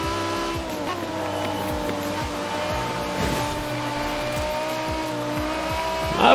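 BMW cars drift in Forza Horizon 4, tire squeal held under a continuous engine drone, with repeated short ticking bursts and a loud swell at the very end.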